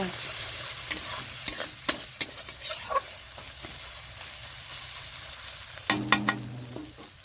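Chopped tomatoes fry in hot oil while being stirred, a constant close sizzle broken by scraping stir strokes and a louder clatter near the end, with no talking.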